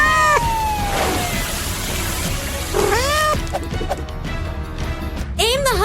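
A cartoon cat in a children's animation about construction vehicles lets out several loud, close meows with rising and falling pitch, mixed with background sound effects and music.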